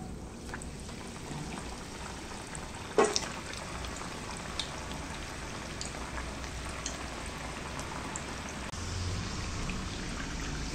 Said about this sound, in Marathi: अशाच आपण पुढच्या सगळ्या करंज्या तळून घेऊया